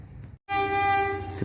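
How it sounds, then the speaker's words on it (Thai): A freight train passes close by at Lopburi station, Thailand, with a loud, steady horn blast that sounds after a brief silence and holds over the rumble of rolling wheels. "ก็มีขบวนสินค้านะ"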